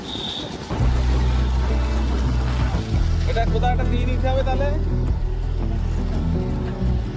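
A motorbike carries riders along a road, its engine a steady low drone with constant wind rush throughout, while a person talks over it.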